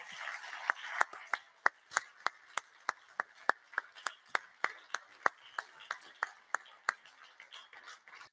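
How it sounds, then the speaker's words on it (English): Audience applause at a Norwegian socialist gathering in a hall, a steady run of sharp, evenly spaced claps that read as a small group clapping in unison rather than a dense roar, lasting several seconds with no talk. "Now we applaud him on your way out because you have to go now."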